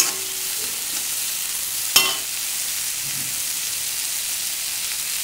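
Onions sauté in a pan for a Srirangam-style rasam, giving a soft, steady hiss of frying with one sharp utensil clink partway through, close and fairly quiet with no voices.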